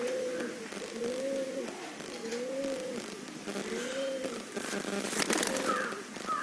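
Close, repeated cooing from a female pigeon comes in steady, rounded phrases with short gaps between them, followed by a brief rustling burst near the end.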